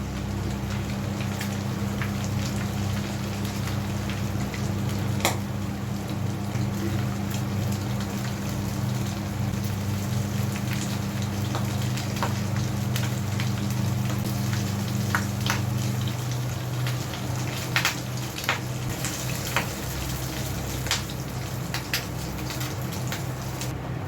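Shami tikiya frying in hot oil, a steady soft crackle and sizzle with scattered sharp pops, running continuously close by with no talk.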